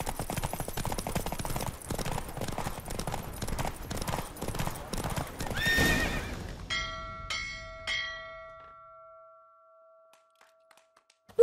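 A horse gallops in a race in the video game The Witcher 3: Wild Hunt, its rapid clip-clop hoofbeats driving on for about six seconds. The hoofbeats fade out, and a few clear bell-like chimes ring in the near silence that follows.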